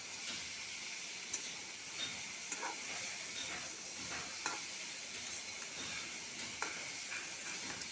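Masala with tomato, salt and turmeric being sautéed in a pan, a soft continuous sizzle and hiss with occasional spatula scrapes and taps, fairly quiet, no talking.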